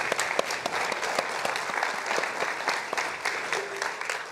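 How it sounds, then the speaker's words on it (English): A church congregation applauds after a baptism, many hands clapping in a brisk, uneven patter of distinct claps at moderate volume, lasting a few seconds without speech. "Would y'all give them a round of applause?"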